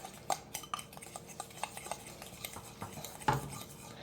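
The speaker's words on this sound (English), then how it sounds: "Stir that together." Melted butter and brown sugar stirred with a utensil in a mug, giving soft scraping and clinking taps against the sides, quiet and close, with a louder knock near the end.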